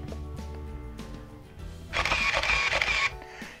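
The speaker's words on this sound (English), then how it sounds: "it's automatically going to advance the film 3 frames" Nikon N6006 (F601) 35mm film camera motor-advancing film: quiet mechanical clicks, then a loud whirring buzz of about a second as the film winds on, ending in a soft click, close up.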